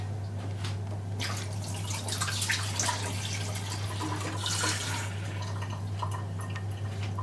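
Water trickles and splashes in short bursts into a mixer grinder jar of mint chutney ingredients over a constant low electrical hum, close and moderately quiet.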